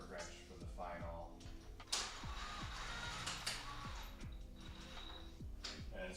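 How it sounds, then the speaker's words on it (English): Short whirring bursts from an impact gun run BMW lug nuts onto converted wheel studs, trigger only partly pulled, repeating steadily at close range against background shop noise. "I'm not even going full blast with this torque gun"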